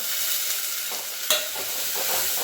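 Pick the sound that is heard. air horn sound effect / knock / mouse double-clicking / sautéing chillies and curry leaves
sautéing chillies and curry leaves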